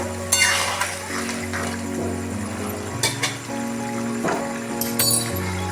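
Chili chicken being stirred in a pan with water at a boil, giving metallic clinks and scraping over a steady bubbling simmer with a musical tone underneath.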